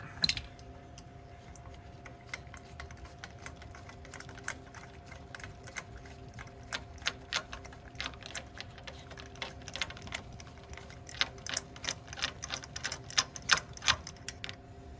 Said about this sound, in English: we'll get our spark plug socket on there and get the spark plug out